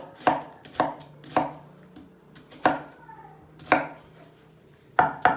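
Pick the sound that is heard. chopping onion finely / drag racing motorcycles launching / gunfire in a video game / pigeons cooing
chopping onion finely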